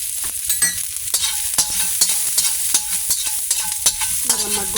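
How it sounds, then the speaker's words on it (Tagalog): Garlic sautés in a pan, a bright continuous sizzle with frequent sharp scrapes and taps of a stirring utensil, close and fairly loud with no voices. "Gigisahin natin yung bawang."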